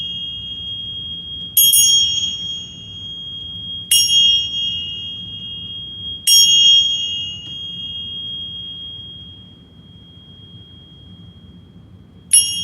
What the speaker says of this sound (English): We're going to go ahead and start with the bells here.